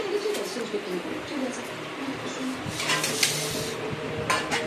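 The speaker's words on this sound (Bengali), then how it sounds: "ভাত বাড়ছি" Rice being served onto a plate with a spoon for a home meal of chicken kasha, salad and fried potatoes, giving scattered light clinks of utensil on dishware over a steady room background, with a voice talking now and then.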